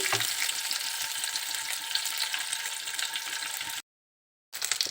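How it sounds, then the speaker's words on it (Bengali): Eggs frying in oil in a pan give off a steady, dense sizzle and crackle, close and loud, broken by a sudden brief silence near the end before the sizzling resumes. "এগুলো এখন আমি ভালোভাবে ফ্রাই করে নিচ্ছি"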